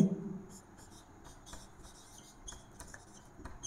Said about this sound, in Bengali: এখন দেখো এই জায়গায় যদি লিখি ট্রিপসিন